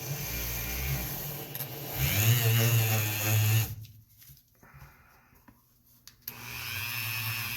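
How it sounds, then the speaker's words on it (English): A Dremel rotary tool polishes the tip of a firearm component with a steady high whine, loud and close, then drops away into near quiet before returning at the end. "Quicker, easier way to do it, get a better finish, obviously the Dremel tool."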